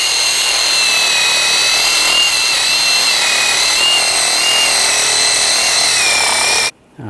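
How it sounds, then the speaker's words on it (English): Surface rust on the front hub of a 2014-2018 GMC Sierra 1500 being scrubbed with a wire brush, a loud, close, continuous high whirring scrape that cuts off abruptly near the end. "I'm just going to use a wire brush"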